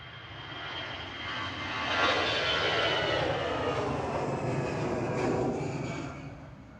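An EasyJet airliner bound for Dalaman roars past at Manchester Airport. The steady, broad jet-engine rumble swells to a loud peak and holds before easing slightly. There is no talk.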